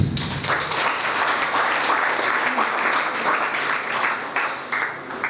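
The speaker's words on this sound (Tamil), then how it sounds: "இந்த டீமுக்கு நான் உண்மையாக ஒரு கைத்தட்டல் கொடுக்கணும்" Audience at a PCSO award event breaks into sustained applause for a team, a dense wash of many hands clapping at steady loudness that tapers slightly near the end.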